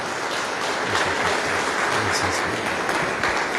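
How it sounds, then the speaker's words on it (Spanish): A church congregation gives applause to the Lord and the Virgin during a Catholic service, steady dense clapping that fills the room throughout, with voices faintly underneath. "Vamos a darle un fuerte aplauso al Señor y a la Virgen."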